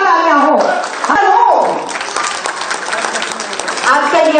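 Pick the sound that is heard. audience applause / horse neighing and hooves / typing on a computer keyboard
audience applause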